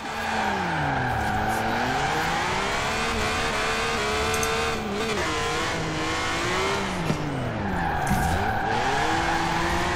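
A BMW Z4 with a six-cylinder engine drifts in the Forza Horizon 4 video game, its tyres screeching continuously under a loud, wavering engine note that rises and falls for the whole stretch.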